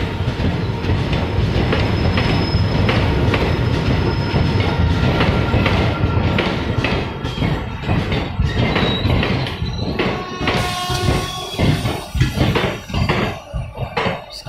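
The Coimbatore Express passenger train rolls slowly through Lonavala Junction with steady clickety-clack of wheels over rail joints, occasional wheel squeal and metallic rattles close by.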